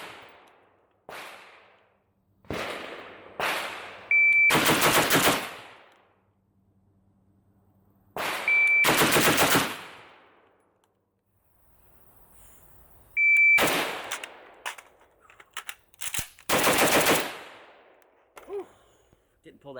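Sharp, loud rifle shots from a 13-inch IWI Galil Ace in 5.45 ring out alone in several spaced groups, some as quick doubles, with quiet gaps between at an outdoor range.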